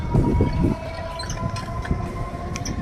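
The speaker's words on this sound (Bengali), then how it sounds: "হ্যাঁ দেখতে পাচ্ছি সামনে ট্রেন যাচ্ছে" A train rolling past near a neighbourhood lane, a steady low rumble of wheels and cars throughout, fairly loud and close, with a faint high tone above it and no talking.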